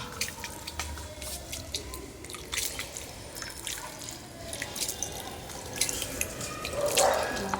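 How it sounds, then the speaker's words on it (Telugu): Water is sprinkled onto soil for planting mint, dripping and splashing lightly in scattered, irregular spatters, close by, over a low background hum, with no voices. "కొంచెం వాటర్ చిలకరించాలి ఇలాగా"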